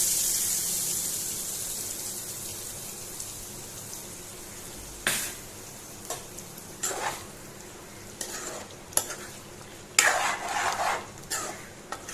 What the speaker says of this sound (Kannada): ಈಗ ರೆಡಿ ಮಾಡಿಟ್ಟ ಒಗ್ಗರಣೆಯನ್ನು ಇದಕ್ಕೆ ಹಾಕೊಳ್ತೇನೆ